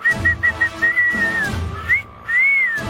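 A person whistles a quick run of short and sliding notes, clear and close, with brief pauses between phrases and no talking.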